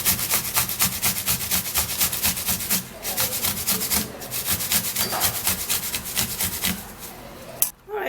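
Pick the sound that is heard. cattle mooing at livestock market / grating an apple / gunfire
grating an apple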